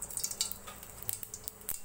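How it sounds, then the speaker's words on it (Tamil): Soft, scattered crackling and popping of mustard seeds frying in hot oil in a pan, faint and irregular, with no voices. "ஒரு கடாயில் எண்ணெய் ஊற்றி ஒரு ஸ்பூன் கடுகு ஆட் பண்ணிக்கலாம்"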